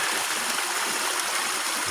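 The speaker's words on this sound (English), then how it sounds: "the water flow has gotten a lot more reasonable here at the waterfall now" A waterfall on a rural property pours steadily at moderate springtime flow, a close, continuous rushing wash of water with no other sounds.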